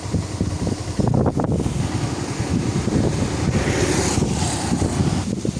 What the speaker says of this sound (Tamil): கடும் காற்று வீசி கொண்டிருக்கிறது